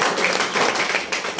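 Audience applause at a Kannada-language talk: a dense, steady burst of many hands clapping, fairly loud and sustained for the whole moment, with no clear voices over it.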